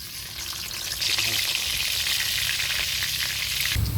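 Chopped onions hitting hot oil in a village kitchen pan, a strong continuous sizzle that swells after the first second and stays loud, ending with a low clatter.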